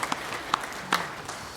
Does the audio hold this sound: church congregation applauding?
yes